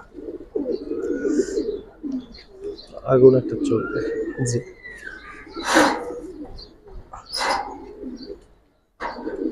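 Domestic pigeons coo loudly and close by in a pigeon loft, in short throaty bursts mixed with someone talking in Bengali.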